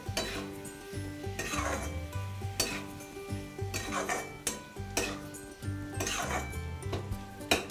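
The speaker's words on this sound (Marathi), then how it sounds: "सगळं परतून घ्यायचं आहे" Sliced capsicum, chopped onion and tomato with salt sauté in a pan, with a steady sizzle and repeated stirring scrapes running throughout and no voices.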